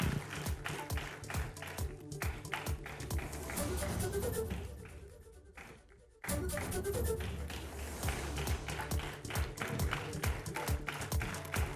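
Audience applause at the Ideas of India Summit 2026, a dense stretch of many hands clapping that thins and dips briefly near the middle, then swells back to full strength for the rest of the clip.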